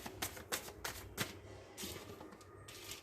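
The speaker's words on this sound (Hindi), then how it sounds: "चलिए अब कार्ड पिक करेंगे।" Tarot cards handled and picked from a deck, giving a run of soft, crisp papery slides and snaps in irregular bursts, close and fairly quiet, with no talking.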